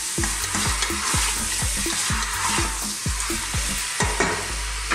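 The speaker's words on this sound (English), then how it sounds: "Just wanna kind of brown it, get that garlic and that seasoning happening into that meat" Lamb browning over high heat in an open pot with garlic, salt and black pepper, loud continuous sizzle broken by steady rhythmic scrapes of a spoon stirring through the meat, close up and with no talking.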